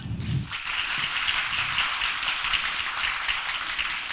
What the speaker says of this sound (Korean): 한 분 한 분 박수로 환영해 주시면 감사하겠고요